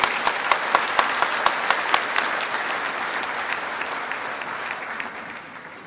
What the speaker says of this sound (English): Let's give a big applause for Gwen.